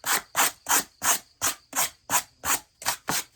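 A piece of cardboard scrapes a pottery kiln shelf clean after a bisque firing, making about ten rhythmic, evenly spaced rasping strokes, close and clear with no talk.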